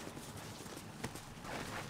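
Horse hooves clip-clop in Red Dead Redemption as a stallion trots along, a steady, moderately loud patter of hoofbeats with faint background ambience and no voices.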